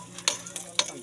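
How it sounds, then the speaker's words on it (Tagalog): Garlic sautés in a frying pan with a soft sizzle, broken by a few short scraping stir strokes that come and go quietly. "So dito na rin natin igisa yung bawang."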